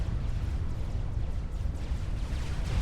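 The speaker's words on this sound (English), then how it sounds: "Wait, what was the second explosion?" A low, rumbling explosion roars through a large-scale real-time strategy battle in Supreme Commander: Forged Alliance, a dense continuous boom filling the whole stretch without speech.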